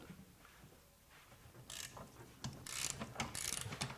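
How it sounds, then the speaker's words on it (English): A Milwaukee flex-head ratcheting wrench tightened to 100 foot-pounds, heard as a quick handful of sharp, close clicks in the second half after a quieter start. "So flip our wrench over, and 100 foot-pounds."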